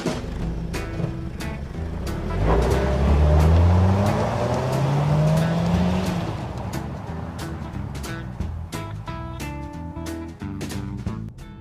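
A 2014 Mazda CX-5 Grand Touring all-wheel-drive crossover drives on an open road, its engine and road noise rising and falling in a sustained, fairly loud rumble, with clicks and ticks over a steady tone toward the end.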